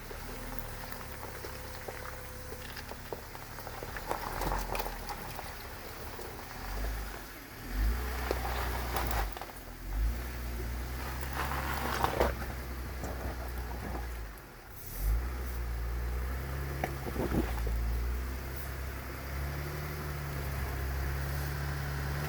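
A truck on Milestar Patagonia M/T mud tires drives through slick mud, with a steady engine drone that swells as it revs, plus wet churning and splatter throughout and no voices.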